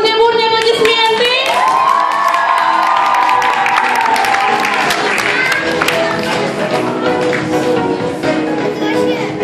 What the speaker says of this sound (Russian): Бурные-бурные аплодисменты!